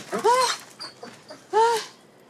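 Dog whimpering and whining in two clear bursts with quieter whines between them, close by and with no talking.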